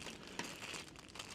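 Crinkling of a plastic bag holding a batch of tractor headlights, a soft continuous rustle with a sharper crackle near the start and a louder handling noise at the end, close and fairly quiet.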